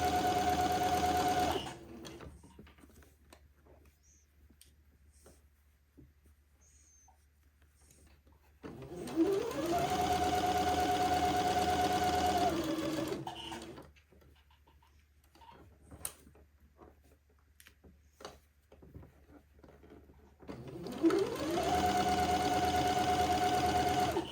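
Sewing machine stitching along a garment placket, running in three steady loud bursts of a few seconds each, separated by quieter pauses with faint handling sounds.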